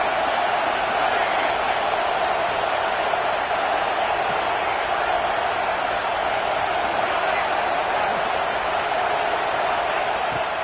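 Stadium crowd roaring steadily at a Michigan versus Oklahoma college football game, a dense, continuous wash of cheering and shouting that holds at the same loud level throughout with no breaks.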